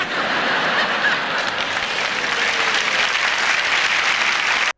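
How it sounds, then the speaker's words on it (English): Dense, steady applause from a large live audience fills the whole stretch at a constant loud level, then cuts off abruptly at the end. "That's a laugh into an applause line."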